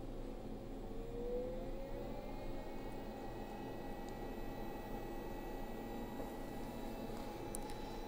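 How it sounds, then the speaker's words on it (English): A benchtop lab mini centrifuge runs a 10-second spin on protein gel samples, a steady close whirring drone with a faint rising tone, holding even throughout with no talking. "I'll just do a 10-second spin by holding the short button"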